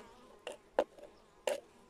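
Honeybees buzz at a hive entrance whose openings have been half-closed against large moths, heard as a few brief close passes of buzzing wings, fairly faint, with no talk.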